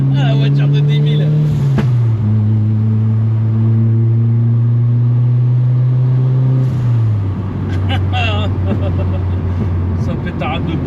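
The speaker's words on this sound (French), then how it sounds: "Ça pétarade de partout." A turbocharged Honda project car with a lifting cylinder head revs loudly up close, its engine pitch rising and settling, with sharp pops and crackles from backfiring near the end.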